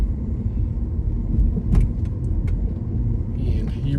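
Audi S4 creeping up a steep incline at about 10 mph, heard from inside the cabin as a steady low engine and road rumble with a few faint clicks and rattles.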